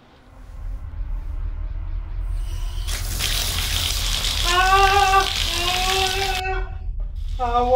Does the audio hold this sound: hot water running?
yes